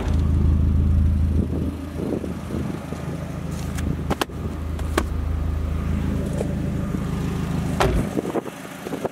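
A lowered 2001 Mazda Miata NB with 89k miles idles in a steady, low, continuous engine rumble throughout, broken by a few brief clicks and knocks near the middle.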